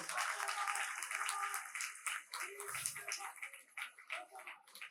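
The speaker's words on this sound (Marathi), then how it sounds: "याला जोरदार टाळ्या वाजवा त्यांच्यासाठी" An audience at a devotional abhang music event claps for an honored guest, loud continuous applause that thins toward the end, with a brief low thump in the middle.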